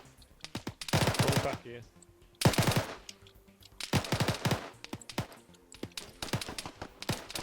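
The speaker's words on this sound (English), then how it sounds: "they keep shooting" Bursts of automatic gunfire in an Arma 3 battle, several rapid volleys of sharp shots separated by short pauses, with a voice briefly speaking over them.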